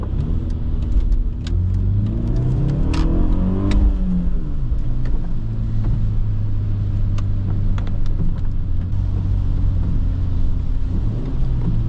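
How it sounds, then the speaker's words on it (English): A BMW 318ti E46 with the N42B20 four-cylinder pulls hard in second gear at full throttle, its engine note climbing steadily in pitch under loud cabin road rumble, then settling into a steady drone. "Second gear, full throttle."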